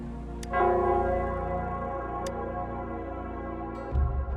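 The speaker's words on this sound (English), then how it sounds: "it's the Nell Squares bell." The Nell Squares bell in the video game Wuthering Waves rings out with deep sustained tolls, a strong strike near the start and another near the end, each followed by a long resonant ringing decay.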